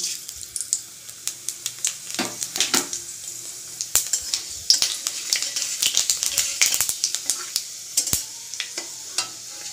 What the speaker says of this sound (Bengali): 5 ফোড়ন ভালো করে লাল করে ভাজা হয়ে গেছে